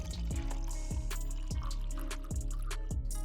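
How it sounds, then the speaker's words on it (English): Milk poured into an 8-ounce cup holding a single ice cube for an iced flat white, a steady liquid trickle with soft clinks, heard close over a persistent low hum. "I pour in milk."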